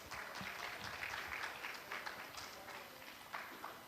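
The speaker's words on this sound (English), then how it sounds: "Please give round of applause." Steady applause from an audience at an international student law colloquium, a dense patter of many hands clapping at a moderate distance, holding evenly for a few seconds.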